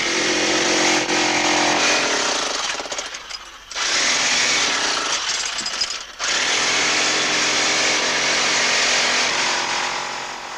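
A rock drill at a small sapphire mine roars loud and close with a harsh, continuous grinding rattle, dropping out briefly twice before running on steadily.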